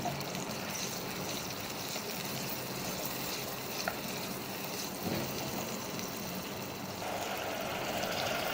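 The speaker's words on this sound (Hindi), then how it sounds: "ये शामिल करके इसको हम मिक्स करेंगे और इसे भूनना स्टार्ट करेंगे।" Spice masala of red chilli powder, turmeric, salt and coriander is fried and stirred for kabab gravy, giving a quiet, continuous sizzle with occasional soft scrapes of the spoon.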